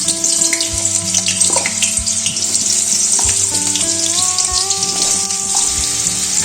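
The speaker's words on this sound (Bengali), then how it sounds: "এইদিকে কড়াইতে সাদা তেলটা গরম হয়ে গেছে। এবার আলুগুলো যে কেটে রেখেছিলাম আলুর দমের জন্য, সেটা এখন দিয়ে দিচ্ছি।" Cut potatoes drop into hot white oil in a wok and fry with a loud, steady sizzle, while music plays underneath.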